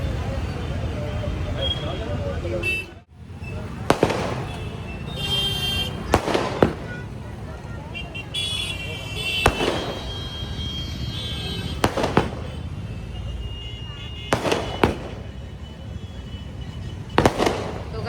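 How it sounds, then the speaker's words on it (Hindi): Firecrackers burst outside a wedding hall in a row of sharp, loud bangs spaced a few seconds apart, over a constant background of traffic and crowd noise. "यहाँ ये हॉल में शादी है, तो यहाँ बम फूट रहा है, बम।"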